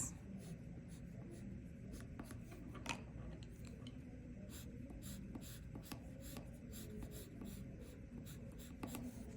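Colored pencil scratches lines onto paper, a rapid series of short, quiet, dry strokes repeating closely and faintly across the whole stretch.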